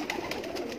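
Breeder pigeons, teddy and lal pari types, give a brief, soft, throaty coo from nearby, a few low pulses over a murmuring background.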